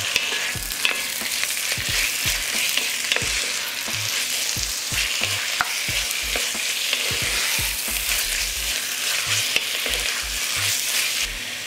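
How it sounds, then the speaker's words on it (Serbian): Minced beef fries in a pan with onion and carrot, a loud continuous sizzle broken by frequent scraping and stirring knocks of a spoon against the pan, with no voices. "Luk se propržio i dodajem šargarepu i pržim sve zajedno još 2 minuta."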